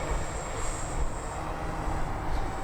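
Hangar 9 OV-10 Bronco 30cc giant-scale twin-engine RC model warbird flying, a steady droning engine buzz heard from a distance, continuous and fairly even in loudness, without talk.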